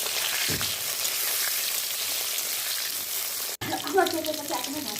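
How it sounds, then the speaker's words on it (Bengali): Eggplant pieces sizzle crisply in hot oil with salt and turmeric, a steady close frying hiss that briefly cuts out before resuming with a clatter. "বেগুনের মধ্যে একটু নুন আর একটু হলুদ দিয়ে ভালো করে কড়া করে ভেজে নেব"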